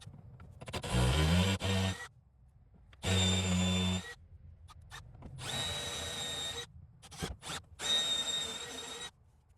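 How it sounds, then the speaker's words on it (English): A step drill bit bores a hole through a Polaris Ranger plastic panel in several loud bursts of whining power-drill cutting, separated by short pauses and brief quieter blips. "We're going to cut this out as much as we could with this step drill bit"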